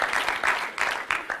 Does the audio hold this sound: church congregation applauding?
yes